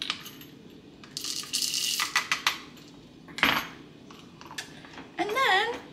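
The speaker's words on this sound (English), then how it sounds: "One scoop, and then into my little coffee grinder." Hard little coffee beans rattle and clatter into the metal container of a manual coffee grinder in a few bursts, followed by a sharp clink and a brief squeak.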